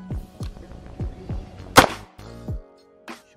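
New XY Maximo gun test fired at a shooting range: one loud sharp report stands out amid several lighter snapping clicks and pops, close by, with no voices.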